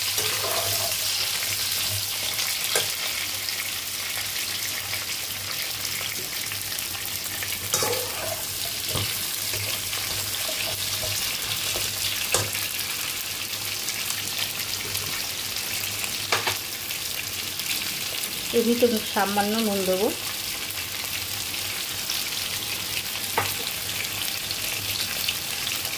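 Chunks of papaya and sweet potato fry in a pan for a Bengali sukto, giving a soft, steady sizzle with occasional utensil taps, while a voice speaks briefly.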